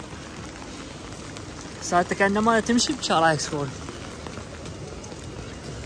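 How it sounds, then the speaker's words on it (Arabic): Heavy rain falls steadily on Oxford Street in London, a dense constant hiss of drops on the pavement throughout while someone speaks briefly in the middle. "المطر ما وقف من ساعه من صارت ثلاث ساعات اربع ساعات."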